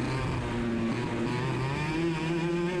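Several 100cc racing kart engines drone together at a race start, their loud, steady tones climbing in pitch under full throttle as the pack accelerates.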